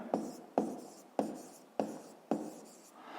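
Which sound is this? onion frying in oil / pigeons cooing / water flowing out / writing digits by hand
writing digits by hand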